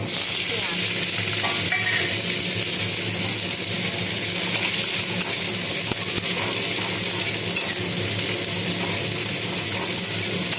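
Onion frying in hot oil for masala Maggi, a loud, dense, unbroken sizzle lasting several seconds with faint stirring underneath.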